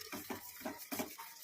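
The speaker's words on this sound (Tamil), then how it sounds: "இப்போ நல்லாவே கலந்து விட்டுடலாம்." Soft, repeated scraping and clinking of a utensil stirring coffee powder through a mixture in a pan, rhythmic strokes at a quiet level.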